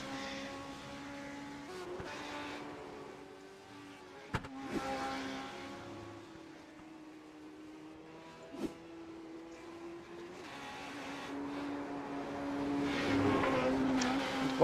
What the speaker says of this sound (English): just enjoy a few pictures here of the cars heading around the track